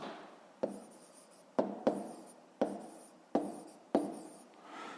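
A pen scratches across paper in several short bursts, each starting with a sharp tap and fading out, close and quiet with pauses between strokes as math work is written down.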